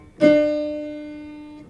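A single piano note resynthesized from its STFT and played back from a WAV file. It strikes cleanly and rings with a clear sustained pitch, decaying slowly over about a second and a half, alone and close.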